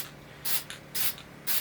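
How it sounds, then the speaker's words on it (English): Black spray paint hissing from an aerosol can onto a cup, three short, separate bursts about half a second apart, close and fairly loud with quiet pauses between them. "go ahead and spray this cup with just black spray paint"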